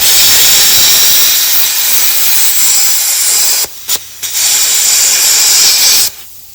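A plasma cutter releases a loud, continuous hiss of compressed air for several seconds, stopping briefly twice before resuming, then cutting off abruptly near the end.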